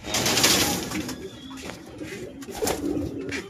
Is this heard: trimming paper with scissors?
no